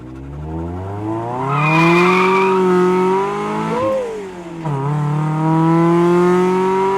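A Mazda NB Miata with a limited-slip differential and five-speed gearbox slides under heel-toe downshifts, its engine revving loudly and rising and falling in pitch, with brief tire squeal and sharp throttle blips, close and continuous.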